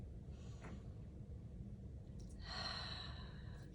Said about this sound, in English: 2 more breaths to end.